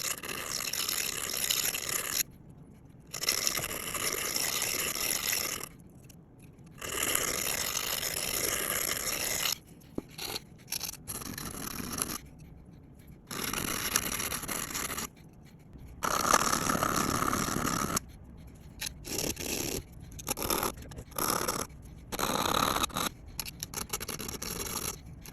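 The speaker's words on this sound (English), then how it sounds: "I'm going to use a combination of this standard metal file and this Fiskars diamond sharpener" A multifunction garden knife is sharpened with a standard metal file and a Fiskars diamond sharpener, making repeated close, gritty rasping strokes in bursts of a few seconds, broken by short pauses.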